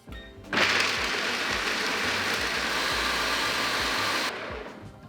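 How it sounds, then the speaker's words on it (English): A blender runs on high speed, grinding marzipan ingredients with sugar into a fine powder, a loud steady whirring roar that starts abruptly, holds for several seconds, then cuts off. "we're just going to blend these on high speed to get a really fine powder"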